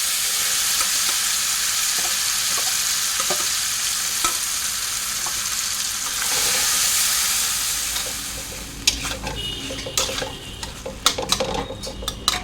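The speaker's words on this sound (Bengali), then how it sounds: "এখন ভেন্ডিটাকে মেখে রেখেছিলাম ওটা দিয়ে দিচ্ছি" Marinated okra hits hot oil with black cumin in a pan, giving a loud, continuous sizzling hiss that later breaks into irregular clatters and stirring scrapes as the frying settles.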